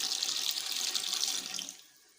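Water pours steadily into a cooking pot on the stove for Shahi Murgh Musallam, a loud continuous splashing gush of about a litre that tapers off near the end, with no talking.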